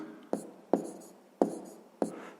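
Pen writing on paper, four distinct close scratching strokes at a steady rhythm.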